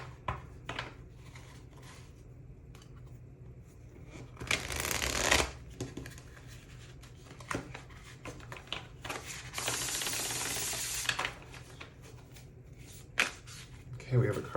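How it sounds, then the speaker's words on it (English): Tarot card deck being shuffled nearby, two longer riffling bursts plus scattered soft card snaps and handling clicks, quiet and close, with faint speech at times. "then we're going to draw some cards from the tarot deck"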